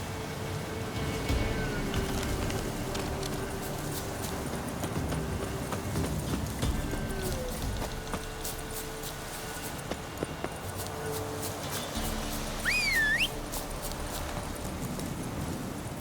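Rhythmic clip-clop of Roach's hooves in The Witcher 3: Wild Hunt, a steady trotting beat close by that runs throughout beneath soft game music and ambient sound, with no clear speech.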